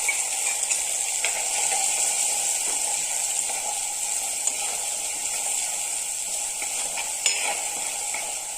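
A constant bright hiss of ground spice paste sautéing in a pan for fish curry, with an occasional scrape or stir sound, close and steady throughout.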